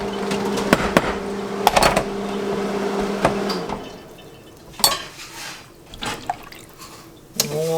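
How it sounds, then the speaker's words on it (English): A spoon clanks and scrapes against a pot of homemade turkey soup with potatoes, giving a run of close metallic knocks and clinks. These are followed by quieter scraping and a few scattered sharp taps, with no speech. "give this a little bit of a stir"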